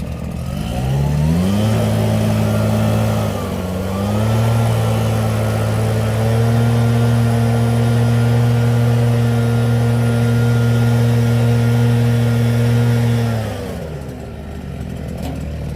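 Gas-powered blower pushing air through an underground buried downspout drain line, a loud close engine drone that steps up in pitch, holds steady for about ten seconds, then winds down near the end, alone without talk.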